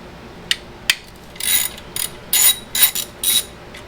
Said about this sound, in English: So now I can confidently take out those 2 screws without dropping it in the hole of the injector.